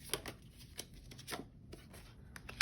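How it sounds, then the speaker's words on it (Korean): A tarot card is drawn from the deck, with faint soft shuffling and sliding card rustles in short bursts, quiet and close, with no talk. "자, 조언의 카드 한 장 뽑아볼게요."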